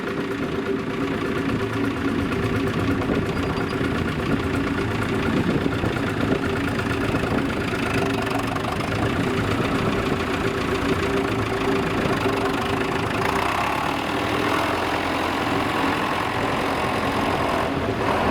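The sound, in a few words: David Brown tractor engine idling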